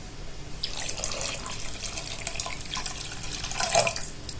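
Water pouring into a small saucepan for lemon syrup, a steady splashing stream at close range with no voices over it.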